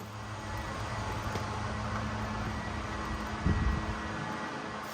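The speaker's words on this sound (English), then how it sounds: "So this is a BMW 228i, a base 2 series with a stock muffler," BMW 228i, a base 2 Series with its stock muffler, idling with a steady low exhaust drone and broadband hum, close to the microphone, with a brief louder blip near the end.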